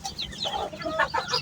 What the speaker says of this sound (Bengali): আমি কয়েকটা মুরগি বসাইছিলাম ডিম ফোটানোর জন্য।